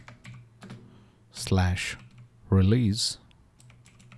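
Keys clatter on a computer keyboard as a command is typed in Windows 11, a string of light clicks that runs between two short spoken phrases.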